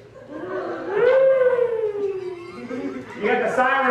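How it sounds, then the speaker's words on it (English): A siren sound effect wails in a rising and falling tone, loud and close, sweeping up and then easing down before swelling again near the end. "You got the siren working."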